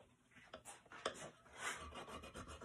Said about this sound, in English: and file that groove